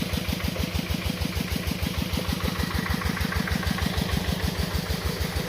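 A walk-behind two-wheel tractor engine idles steadily with a fast, even chugging pulse, close and constant throughout with no voices.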